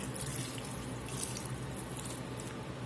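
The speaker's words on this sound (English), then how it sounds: "we're going to add just enough water barely cover these green beans" Water is poured from a tap into a pot of green beans for Southern-style green beans with potatoes, a steady close splashing stream running continuously without pause.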